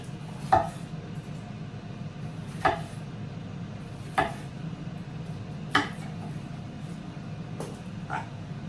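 Food being tossed into a metal mixing bowl already oiled from coating potatoes, five separate clinks and knocks spaced a second or two apart over a low steady hum, close and fairly quiet.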